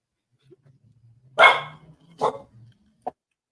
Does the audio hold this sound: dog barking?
yes